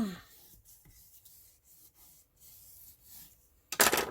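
Paper being burnished onto chipboard for a handmade mini album gives soft, quiet rubbing strokes in a slow, uneven rhythm, and a louder scuffing burst comes right at the end.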